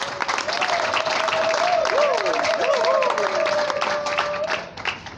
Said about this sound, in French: Nous l'acclamons très fortement.